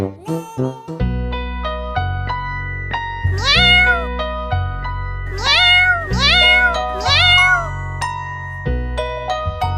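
Kittens meow repeatedly over a cartoon music bed, with a cluster of rising and falling mews around the middle and more near the end, each one clear and close.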